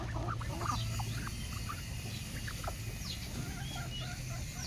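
Chickens and ducks feed together outdoors, a steady chorus of clucks and soft quacks over a constant low hum, moderately near and fairly faint, with no voices.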